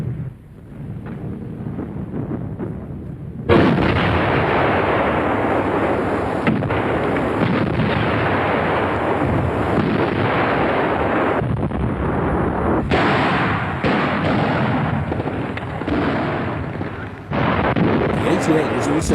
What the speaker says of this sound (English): The 88 was also frequently employed in the conventional artillery role.